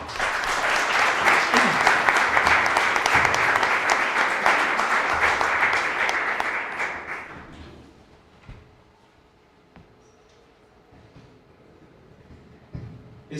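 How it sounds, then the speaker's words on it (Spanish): An audience at a religious-life academic event in Mexico City bursts into loud, sustained clapping that fills the room for about seven seconds, then fades out, leaving a quiet hall with scattered light knocks. "Damos un fuerte aplauso."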